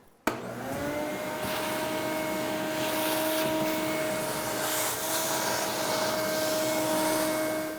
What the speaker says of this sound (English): I'm just going to vacuum up all the dust